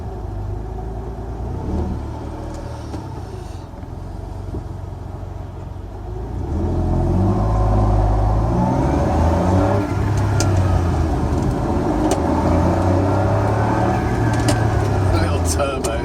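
Small turbocharged 0.6 litre engine of a Smart City Pulse car driving on the road, a steady mid-pitched hum that swells louder about halfway through as it accelerates, with a voice talking over it.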